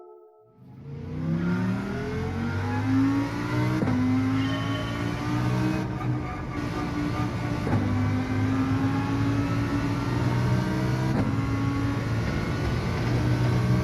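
A race car engine in Gran Turismo 7 roars continuously around Trial Mountain reverse during a daily race, its loud, close whine climbing and shifting through the gears, with no talk.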